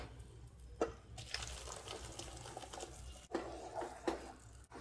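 Hot sugar syrup is poured onto roasted ginger in a pan, producing a faint, steady hissing pour with a few soft knocks, close by and with no talking.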